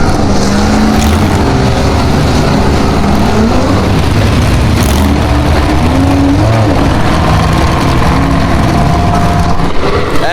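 Off-road race cars driving through a boulder section at King of Hammers: loud, continuous engine roar with rising and falling revs as several vehicles pass close by.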